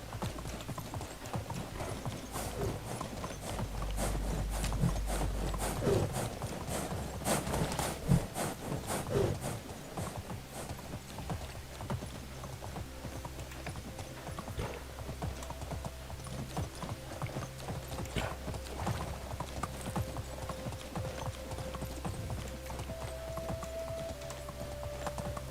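Hooves clip-clop steadily as a horse moves along in the medieval survival game Medieval Dynasty, a continuous rhythmic trot with faint mechanical game sounds, and no talking.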